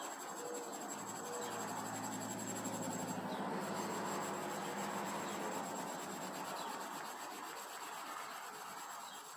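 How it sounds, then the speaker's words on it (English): Fine steel wool scrubs at rust on metal parts, a soft continuous scratchy rasping close up and fairly quiet, steady throughout with no talking. "This is really fine steel wool, so it ain't going to last forever and a day."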